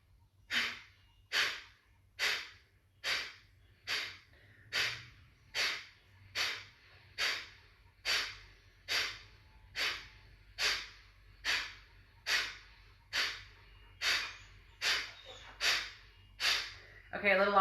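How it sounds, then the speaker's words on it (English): Steady nasal breathing during a core-focused yoga flow: about sixteen regular, evenly spaced breath cycles, each a soft rush of air through the nose rising and fading, close and fairly loud against a quiet low hum, with no talking. "On an inhale, exhale through the nose, and then inhale to begin."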